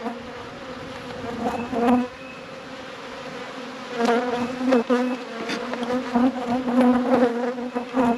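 Many honey bees hum and buzz steadily up close at a hive, the drone swelling and fading as individual insects fly past.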